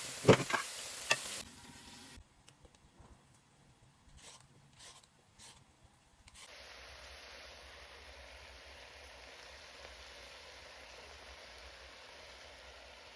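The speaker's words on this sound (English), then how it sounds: "I went on to add my onions into the cooking pot." Onions added to a cooking pot, a brief loud clatter then a soft, steady sizzle of frying at low level, heard close with no talk.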